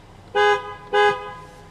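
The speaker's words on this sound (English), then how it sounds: "Honking the horn." Horn of a 2020 Jeep Wrangler Rubicon sounding in two short, loud honks about half a second apart, each a bright harmonic blare with no talk over it.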